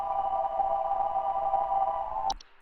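A steady, eerie whistling tone from fungi in the video game Home Safety Hotline hums on for over two seconds, then cuts off abruptly with a brief high blip. No speech is heard.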